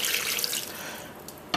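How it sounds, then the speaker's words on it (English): Water pours steadily from a container into a pot of Caribbean ham bone soup, a close, continuous splashing rush that thins toward the end and finishes with a brief clink. "I'm just going to top all of this up with water"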